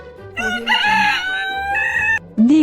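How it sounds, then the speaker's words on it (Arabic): A rooster crows a full cock-a-doodle-doo, loud and near, ending in a brief rising squawk, with no voices over it. "rooster,"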